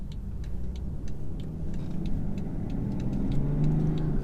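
A 2018 BMW X5 30d SUV driving in Sports Plus mode, with a steady low engine and road rumble heard from inside the cabin and faint regular ticks over it.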